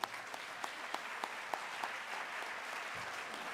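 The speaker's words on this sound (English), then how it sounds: "we'll give you a round of applause" A room of community members at a city State of the City address claps for the Orange Chamber of Commerce board, a steady moderate applause with a few sharper individual claps near the start.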